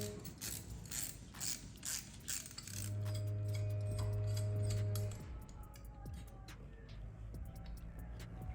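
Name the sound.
ratchet loosening a 15 millimeter bolt on a Camaro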